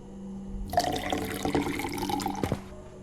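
A drink is poured into a cup, a short, close liquid trickle lasting about two seconds that ends with a soft knock.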